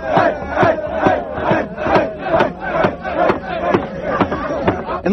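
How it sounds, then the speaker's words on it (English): Crowd of kids chanting the tomahawk chop in a mocking way, rhythmic rising-and-falling whoops repeating about every half second, loud and close. "He deserves to be surrounded by this crowd of kids who then proceed to mock him and throw up the tomahawk chop."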